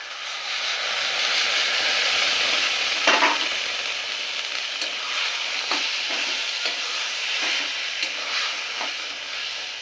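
Taro leaves with boiled lentils being stirred in a frying pan, a steady close sizzle with a few soft scraping strokes of the spoon, no voices.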